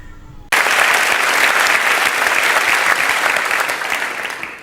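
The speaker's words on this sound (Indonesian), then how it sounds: "Bisa kita memberi tepuk tangan untuk pria yang telah membantu?" Loud, sustained audience applause fills a theater hall during a talk on cognitive blind spots and magic, beginning abruptly after a brief quieter moment and holding steady dense clapping to the end.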